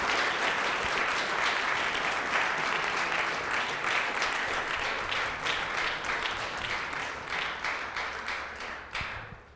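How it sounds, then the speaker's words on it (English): At a village council meeting, dense, sustained audience applause of many hands clapping together stays close and fairly loud, then gradually thins and fades toward the end. "Let's give everyone a big round of applause."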